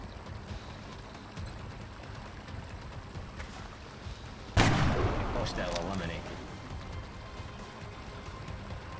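A single heavy gunshot rings out midway through a strategy game mission, a sudden loud blast with a decaying tail over a low steady background hum.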